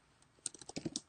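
Brisk typing on a computer keyboard, a short run of crisp, uneven key clicks building quickly after a quiet start, close and fairly soft.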